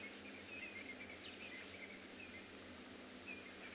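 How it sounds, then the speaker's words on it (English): Distant wild birds call faintly over steady quiet background noise in cold morning African bush, with thin chirps and whistles from francolins, a bearded woodpecker and cisticolas scattered across the clip. "I can hear francolins, I can hear bearded woodpecker, I can hear cisticulars."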